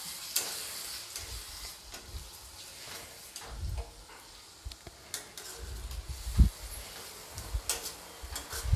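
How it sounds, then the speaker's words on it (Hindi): Spices frying in oil in a pan for lauki kofta curry, with a soft continuous sizzle broken by repeated stirring scrapes and a sharp clatter of the spoon against the pan, no talk. "अब मैं मसालों को अच्छी तरीके से भूनकर रेडी कर लूँगी।"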